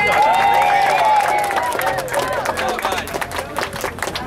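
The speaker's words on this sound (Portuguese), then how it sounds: "Uma salva de palmas." Loud crowd applause with cheering, dense clapping filling the whole stretch, with a whistle-like tone near the start.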